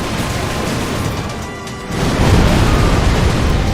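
Dense, continuous rumble of rocket explosions in a video game, loud and steady with a swell of heavier booming in the second half, no talk over it.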